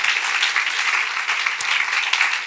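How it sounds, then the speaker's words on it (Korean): A church congregation at a Korean Friday night worship service claps loudly and continuously, a dense, even wash of applause with no voices over it. "나 오늘 박수 계속 쳐야 될 것 같아요."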